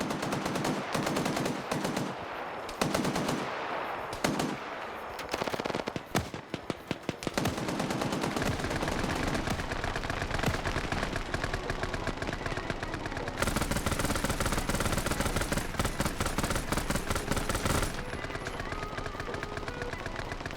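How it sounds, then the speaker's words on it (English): Rapid, sustained machine gun bursts and gunfire from a Vietnam-era PvP battle game, loud and dense throughout, with crackling volleys and brief pauses before heavier continuous firing resumes. "the machine gun suppression's now getting all these guys out"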